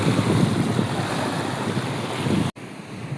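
Sea waves wash steadily against the shore at Erangal during the tide, a loud continuous surf roar mixed with gusty wind buffeting the microphone, cutting off abruptly near the end.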